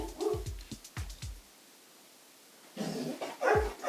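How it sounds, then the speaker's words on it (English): Several dogs bark in quick bursts nearby, a pause of quiet, then another flurry of sharp barks and yips. "They like to bark at everything that moves when it's just the two of us."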